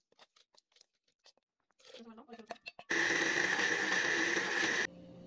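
A wet grinder grinds urad dal, green gram and fenugreek for idli batter, a loud, dense churning whir that starts suddenly after scattered faint clicks and brief speech, runs for about two seconds, then drops to a quieter hum.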